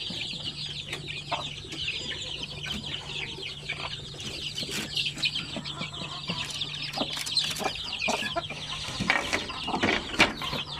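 Chickens at a poultry farm with Basilan pullets, a steady backdrop of clucking and chirping birds with occasional louder calls and wing sounds, mid-distance and continuous, with no talking.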